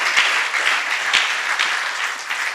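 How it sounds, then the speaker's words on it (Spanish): A church congregation bursts into brisk, continuous applause, a close, even roar of many hands clapping for a couple of seconds with no voices on top. "denle un fuerte aplauso"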